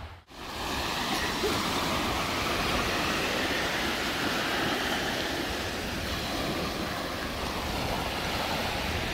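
Waves roll in on a Hawaii beach as a loud, continuous broadband wash of surf, close by, with wind noise and no voices.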